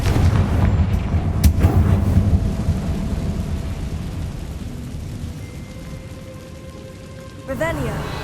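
A Confringo blasting spell explodes in Hogwarts Legacy, a deep rumbling boom that rolls and slowly fades over several seconds, followed by a softer magical chime near the end.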